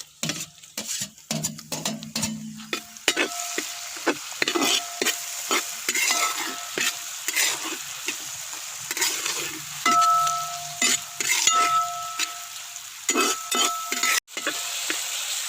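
Tomatoes fry in a pan for a biryani-style dish and are stirred repeatedly, giving a steady sizzle broken by scraping spoon strokes and occasional clinks of utensil on pan, close and alone.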